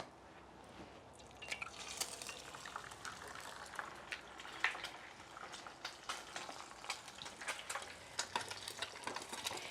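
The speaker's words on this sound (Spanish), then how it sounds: "estén hirviendo allí los huevitos ahí en el jitomate y agarran muy buen sabor" Eggs frying and simmering in tomato salsa in a pan, with a steady crackling sizzle, bubbling and occasional stirring and drips, fairly quiet and close, with no talking.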